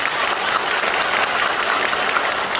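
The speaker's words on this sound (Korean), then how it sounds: "박수 한번 쳐주셔야겠죠?" A crowd at a party members' lecture session in a Gumi civil defense education hall claps together, producing a short, dense and even burst of applause lasting under three seconds.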